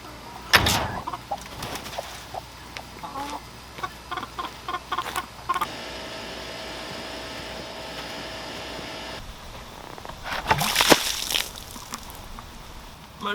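Backyard chickens cluck in short bursts near and far, amid steady outdoor background noise and a few clattering sounds, while their water is topped up ahead of a storm.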